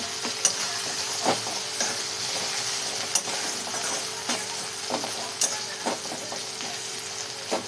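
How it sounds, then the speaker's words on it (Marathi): A spatula stirs a ground onion and coconut masala with homemade spice mix in a pan for a black-eyed pea and potato curry. Faint sizzling sits under intermittent scraping and clicking strokes, and no one speaks. "छान असं मिक्स करून घ्यावा मसाला"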